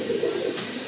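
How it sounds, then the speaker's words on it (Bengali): A Danish pigeon, one of a breeding pair at a pigeon sale, gives soft, low cooing in a couple of rolling pulses, close by and fairly clear against faint background noise. "যাদের ড্যানিশ প্রয়োজন তারা কিন্তু এই জোড়াটা সংগ্রহ করতে পারেন"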